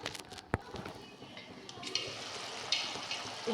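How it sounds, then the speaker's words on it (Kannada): Tomato gojju in a pan, a steady low sizzle and bubbling as it boils and fries, with occasional utensil clinks close by. "ನೋಡಿ, ಕುದಿ ಬರ್ತಾ ಇದೆ. ನೋಡಿ, ಇನ್ನೂ ಸಹ ಅದು ಫ್ರೈ ಆಗಬೇಕು."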